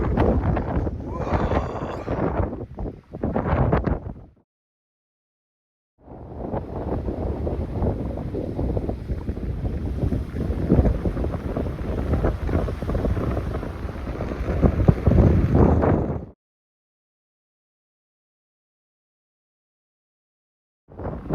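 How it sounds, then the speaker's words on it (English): Warm wind buffets the microphone outdoors on a coastal walk to Fisterra, a loud, rough rush in long gusts broken by sudden silences. "Oh, it's a warm wind."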